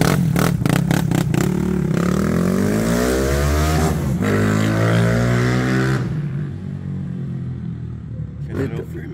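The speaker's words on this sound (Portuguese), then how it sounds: "Acelerou firme, hein?" A Honda CG 160 motorcycle fitted with a 240cc kit revs hard and accelerates, its loud rising engine roar sweeping upward as it pulls away, then fading into the distance while people talk nearby.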